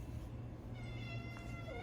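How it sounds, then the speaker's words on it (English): A house cat meows outside, wanting to be let in, in a short drawn-out cry that is moderately near and sits over a steady low background hum. "The cat actually is trying to get into the house"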